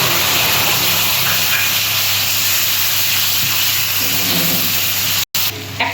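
Ginger paste spluttering in hot oil with turmeric and chilli powder, a dense continuous hiss and crackle of frying that holds steady, with a brief dropout near the end.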